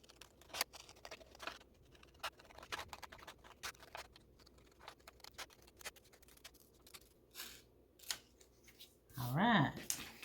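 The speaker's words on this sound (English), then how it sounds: "Cut this out carefully." Scissors cut through leftover T-shirt fabric in a series of quiet, sharp snips and clicks spaced irregularly, close up and faint, with brief rustling of the material near the end.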